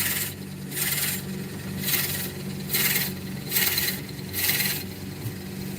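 A drill bores into an oily wood pen blank on a lathe, sounding as a rhythmic series of five or six gritty, rasping bursts about a second apart over a low steady motor hum, close and loud, with no voices.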